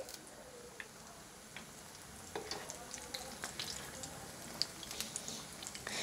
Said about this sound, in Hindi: उलटते पलटते अच्छे से सभी तरफ से गोल्डन होने तक फ्राई करेंगे